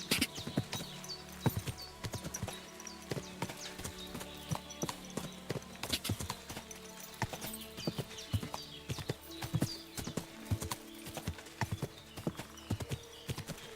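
Rapid hoofbeats of a horse galloping in the video game Kingdom Come: Deliverance, a steady rhythmic clatter of hooves continuing throughout with no talking.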